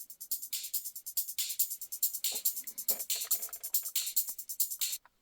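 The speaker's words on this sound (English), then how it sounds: "that is a percussion loop that sounds like this." A percussion loop in Ableton, built on bright, hissy hi-hat and shaker-like hits with little low end, plays in a steady, busy rhythm at moderate level for about five seconds before cutting off, with no voice.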